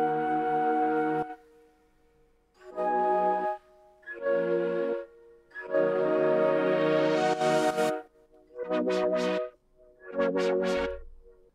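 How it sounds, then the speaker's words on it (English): Synth harmony from a SINE Player flute layered with a Vital synthesizer: six separate sustained chords separated by short silences, the later ones brighter, with one swelling and another pulsing rapidly. "So here we have a harmony section that is being played by both the SINE Player with a flute and"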